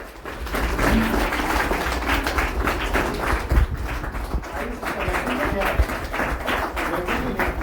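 Sustained audience applause at a retirement ceremony, a steady dense clapping wash of many hands lasting throughout, loud and continuous with a couple of brief louder thumps.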